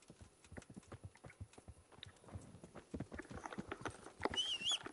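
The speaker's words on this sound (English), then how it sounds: "I'll get my horse over here as well" Horse hooves clip-clop steadily on the ground in the medieval video game Kingdom Come: Deliverance, a quick rhythmic patter close by and fairly quiet, with a short whinny-like squeal near the end.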